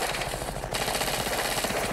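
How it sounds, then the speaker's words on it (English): Rapid machine gun fire from the film Predator, a dense stream of loud rattling bursts filling the short moment without pause. "Use that machine gun."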